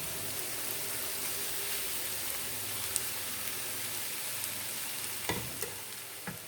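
Rice frying in hot ghee while being stirred for degi zarda, a steady close sizzle with soft scraping stir noises and a few sharper clinks near the end, with no talk.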